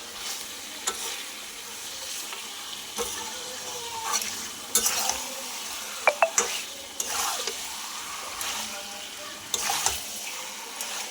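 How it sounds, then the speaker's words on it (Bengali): Meat being sautéed and stirred in a pot for biryani, a steady low sizzle broken by intermittent utensil scrapes and clinks, with faint running water nearby. "মাংস কষানো হচ্ছে ওদিকে"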